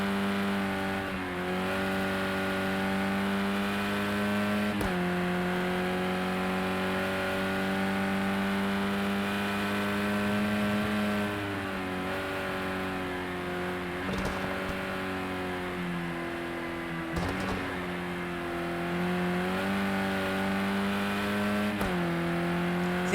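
A race car engine at high revs lapping Silverstone in a racing video game, a steady droning whine that rises and falls with gear changes and braking, with brief shift blips and no talk.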